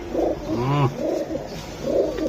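A male pigeon coos in a steady, close rhythm of three rolling calls with short pauses between them, no voices present.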